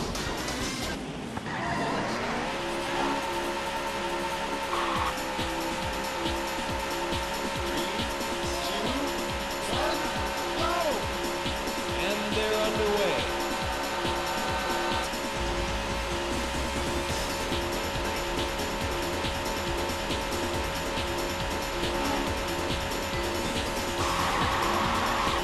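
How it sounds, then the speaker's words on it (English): Race cars from the Daytona USA arcade game roar continuously at high revs for about twenty-five seconds, with tire squeal and skidding layered over a steady bed of game music and effects. "Gentlemen, start your engine."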